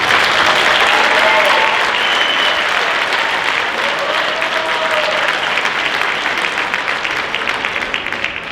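An audience claps steadily and loudly at a school spring concert to welcome the fifth grade band, a dense, sustained wash of applause that tapers slightly at the end.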